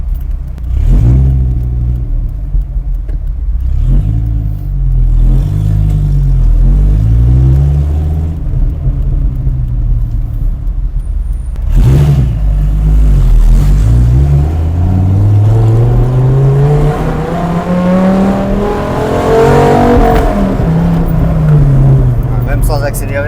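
Dodge Viper SRT-10 V10 engine rumbling deep and loud from inside the car during short, brisk accelerations, pitch rising and falling repeatedly, with a long climbing rev near the end, while people talk over it.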